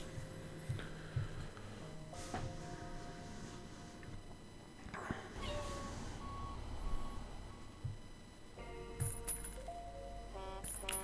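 A dump truck in a logistics video game beeps steadily in reverse over engine rumble and other machine noises, with occasional clanks and chimes, moderately loud and close.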